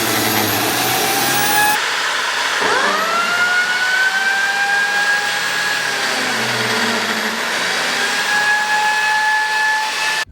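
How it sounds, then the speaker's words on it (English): A workshop hoover vacuum runs loudly and continuously beside a Makita biscuit jointer cutting into MDF. A steady roaring whine dominates, while a high motor tone drops and then climbs back early on as the jointer spins up and cuts. "So we'll turn the hoover on, line it up, and you can see how that works."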